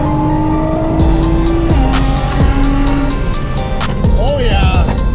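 A turbocharged car revs hard and lets out sharp blow-off valve hisses between gear changes, loud and close as cars race along a Japanese road, with people talking over the engine.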